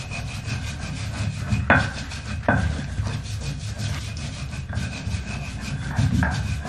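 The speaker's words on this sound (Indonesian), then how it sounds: "soalnya enggak pernah motong terong" A knife cuts through an eggplant with repeated rough, scraping strokes, each cut ending in a sharper chop on the board, close and clear with no talking.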